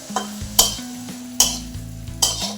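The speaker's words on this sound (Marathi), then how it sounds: "मस्तपैकी फ्राय करून घ्यायचं" Fodni poli, seasoned flatbread pieces, frying and being stirred in a pan, with a few sharp scraping strokes over a steady low hum and a soft sizzle.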